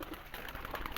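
Soft cooing from pigeons kept by a fancier, faint and low-pitched, repeating in short murmurs against a quiet background hiss.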